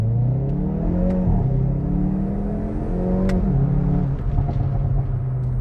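A 2022 Hyundai i30 N hot hatch engine hums and revs steadily from inside the cabin, rising and falling in pitch as it accelerates, with a low rumble throughout.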